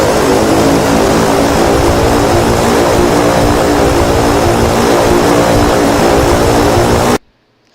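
A Cessna Caravan's propeller in reverse mode roars in X-Plane 11 at Coronado, a loud, steady, broadband drone that holds for about seven seconds before cutting off abruptly into near silence.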